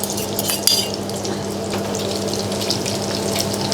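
Beaten egg for a Thai omelet sizzles and bubbles in medium-hot cooking oil, a steady crackling fry with a faint clink near the start and a constant low background hum.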